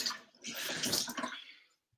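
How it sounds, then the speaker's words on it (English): Cold water is poured and splashed over a knife-sharpening stone, giving a brief close wet splash and trickle that starts, swells for about a second and stops, with a click at the end. "Wet that stone with some cold water."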